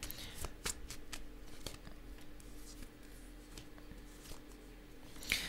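Fortune-telling cards being shuffled, with a steady run of soft riffling and flicking strikes close by and quiet, and a sharper snap near the end; no speech.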